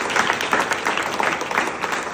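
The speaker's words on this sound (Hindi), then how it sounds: "जिनके लिए मैं चाहूँगा जोरदार तालियां बजाएं" Audience clapping at a network marketing event, moderately loud and fairly even with slight swells, with no speech over it.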